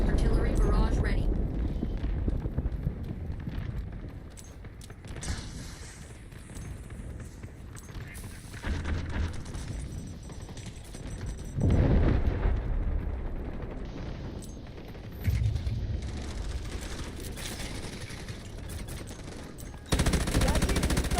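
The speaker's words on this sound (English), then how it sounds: "Artillery barrage ready." An artillery barrage in the video game Delta Force brings heavy, rumbling blasts and gunfire that swell and roll over one another, a dense, continuous din with voices mixed in.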